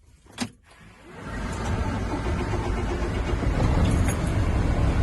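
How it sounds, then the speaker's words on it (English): A semi truck engine starting during a pre-trip inspection: a short click and whir, then after about a second the engine catches and settles into a loud, steady rumble. "And I'm gonna be safe starting the truck."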